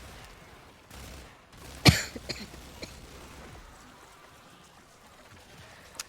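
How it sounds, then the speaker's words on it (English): A single sharp, close cough, followed by a few softer throat sounds against a quiet room background. "I did not mean to cough in your face"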